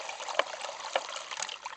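Spring water from a hose trickling through a gold sluice box outdoors, a light steady babble with a few small splashy plinks standing out over the flow.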